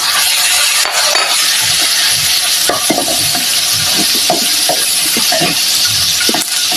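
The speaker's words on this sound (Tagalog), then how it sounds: "magigisa tayo ng bawang at sibuyas" Garlic and onion sautéing in a hot pan, a loud, continuous close-up sizzle with repeated scraping and stirring clatter from a utensil, no voices.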